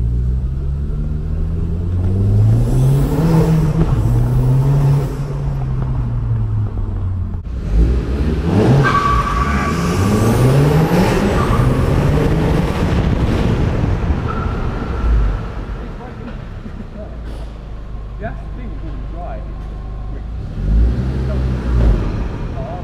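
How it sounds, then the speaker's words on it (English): A car's exhaust echoes in an underground car park, with rising revs and roaring swells that fade and return several times, loud and close, with brief voices between. "we're in an underground car park now, get some exhaust noises."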